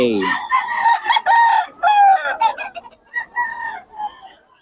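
A bull stag rooster crows repeatedly at a poultry market in Bocaue, loud, close harmonic calls broken into several bursts with brief pauses and faint background clucking.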